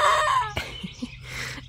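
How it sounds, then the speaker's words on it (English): A rooster in a backyard garden flock crows once near the start, a loud harmonic call, followed by a few short clucks and a softer hoarse call from the birds. "that's definitely a rooster"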